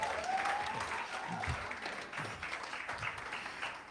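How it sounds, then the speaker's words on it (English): An audience at a church comedy night gives a round of applause, a dense, fairly soft wash of clapping that holds steady for several seconds. "Y'all give him a nice round of applause."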